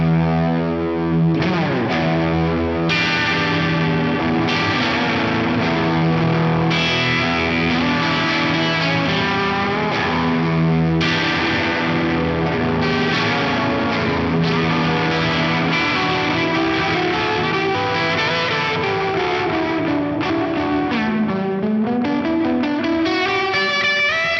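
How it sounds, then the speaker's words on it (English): Electric guitar played through an Aviate Audio Multiverse pedal with delay and reverb added, distorted and chorus-like, sustained chords and melodic lines ringing continuously with lush trailing echoes, loud and steady throughout with no voices. "I have come through and added a delay and a reverb"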